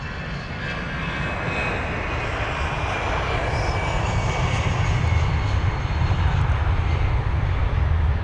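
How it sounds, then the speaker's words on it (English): Eurowings Airbus A319 jet taking off at London Heathrow, a loud sustained engine roar that swells steadily with broadband rumble, heard alone. "that was the Eurowings Airbus A319 aircraft off to Hamburg"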